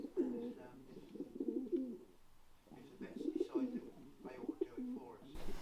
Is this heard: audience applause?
no